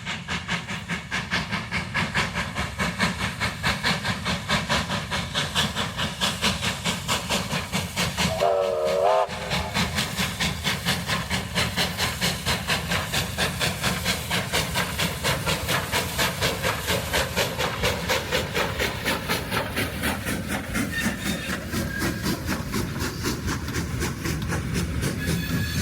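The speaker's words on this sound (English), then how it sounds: "this shot of the Victorian Goldfields Railway as 1954 consolidation J549 arrives into the terminus of Malden" A 1954 consolidation steam locomotive, J549, arrives into Maldon terminus on the Victorian Goldfields Railway. Its steady, loud chuffing and rolling rumble fill the whole stretch, with a brief whistle-like tone near the middle.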